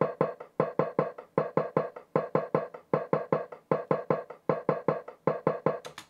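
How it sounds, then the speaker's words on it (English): A closed hi-hat track is soloed from an electronic music production, with short, bright, processed ticks in a quick repeating rhythm that runs loud and alone. "the hi-hats, which the hi-hat sounds like this,"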